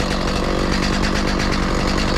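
A chainsaw runs steadily at high revs, loud and close, a continuous buzzing drone with no pauses and no talk over it.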